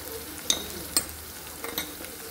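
Garlic, curry leaves and turmeric frying in a pan for a ridge gourd dish: a low, quiet sizzle with a few sharp metallic spoon taps and scrapes against the pan, close up.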